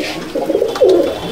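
Kamagar flying pigeons coo in a loft, two short throaty rolling calls heard close and clear in quick succession.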